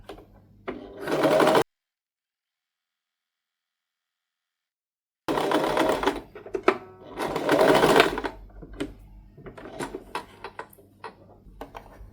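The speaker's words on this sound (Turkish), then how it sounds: "çizdiğim yerlere döne döne dikişimi çekiyorum" A sewing machine stitches a frilled collar in close, loud bursts of rapid mechanical whirring, stopping for a long silent gap, then resuming with several runs and short stop-start spurts.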